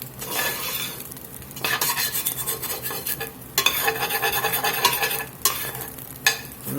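Ground beef for a blackened hamburger soup sizzles in a pan while a utensil scrapes and stirs it in irregular bursts, close and fairly loud, with no talking.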